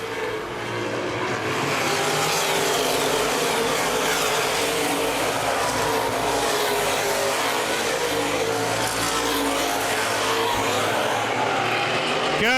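Open-wheel modified race cars roar around Baer Field Speedway in a dense, unbroken drone of many engines at full throttle, loud and steady from start to finish.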